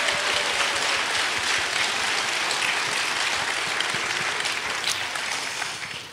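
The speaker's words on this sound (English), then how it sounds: "These guys, give them a round of applause." Sustained audience applause fills a hall at the EVE Vegas 2017 gaming convention, dense steady clapping from a large crowd holding level for six seconds before tapering slightly at the end.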